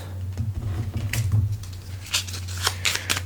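Gloomhaven attack modifier cards are shuffled on a table, giving quick, close, crisp riffling and flicking snaps in short bursts over a low background hum.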